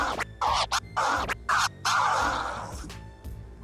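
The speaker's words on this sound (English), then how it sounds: "The one-click flare sounds like this." A DJ performs one-click flare scratches on a record with the crossfader: a loud, choppy run of short, sharp scratch bursts chopped into quick rhythmic stabs, then one longer scratch that fades out, with no voices.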